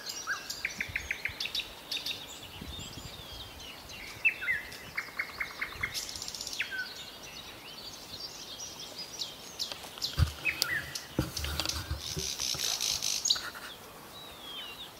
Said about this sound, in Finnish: Onko toisesta satakielä?